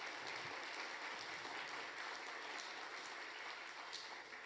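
A crowd applauding at a Christian gathering, dense continuous clapping that holds steady throughout at moderate distance, with no talk over it.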